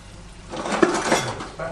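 A plastic spatula scrapes and taps against a Teflon frying pan in a short burst of clinks and scraping, with faint sizzling underneath.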